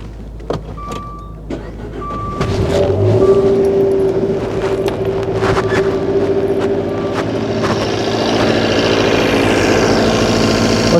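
A Dodge Dart 1.4 Turbo with multiple fault codes is started while a camera faces the fuse box, with a few clicks and a whirring crank before the engine catches and settles into a steady close idle.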